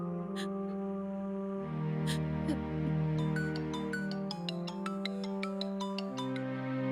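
A phone call rings with a repeating electronic tune, steady and fairly clear, over a sustained tonal backdrop, with a brief short chime pattern cycling through the melody.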